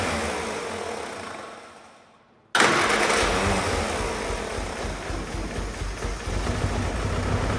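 An old Willys jeep engine cranks briefly, cuts out into a moment of silence, then fires and keeps running with a loud, rough, steady idle, recorded close up.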